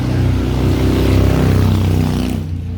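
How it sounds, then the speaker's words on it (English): A loud car passes on a city street, a close, heavy engine roar with a throbbing low pulse that builds through the middle and then drops away, heard alone without talk. "That was a very loud car."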